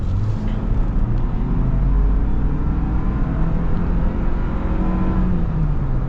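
Engine of a new Toyota Land Cruiser drones steadily from inside the cabin while driving and accelerating, a loud low rumble with a gradually rising pitch and road noise, no talking.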